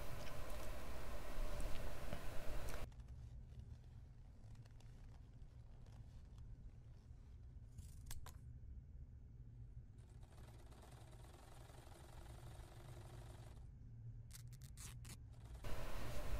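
Scissors cut through trouser cloth on a tailor's table, close and quiet, with soft rhythmic snipping and the blades crunching through fabric between brief louder handling noises.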